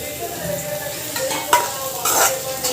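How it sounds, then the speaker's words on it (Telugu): Tomatoes frying in oil for a bottle gourd chutney, with a steady close sizzle broken by a few sharp scrapes and clinks of a utensil stirring in the pan. "ఇది ఆయిల్లో మనం టమాటా వేయించుకోవాలి"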